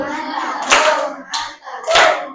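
A small group claps in a classroom lesson, three short loud bursts with brief gaps between them.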